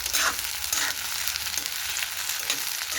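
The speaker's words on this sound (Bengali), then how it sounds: "পেঁয়াজটা একটু ভাজা ভাজা হয়ে গেছে, এখন টমেটো দিয়ে দেবো।" Onions frying in oil in a wok (kadai) for a katla fish curry, a steady close sizzle with crackling bursts and light stirring scrapes throughout, no talk.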